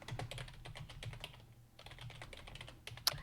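Fast typing on a computer keyboard during a podcast session: quiet, rapid, irregular key clicks in close succession, a short pause midway, then one sharper, louder keystroke near the end.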